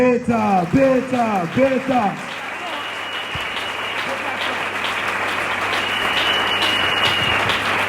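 A church congregation breaks into sustained applause and cheering after a raised, sung or shouted voice at the start. The clapping stays loud and dense, filling the hall steadily to the end.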